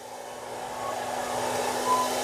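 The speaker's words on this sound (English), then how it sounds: "using a blower, actually hair dryer, to actually push air from the inside" A hair dryer blows continuously with a steady, airy whine, close and unchanging for the whole stretch, pushing dust out of the inside of a PC.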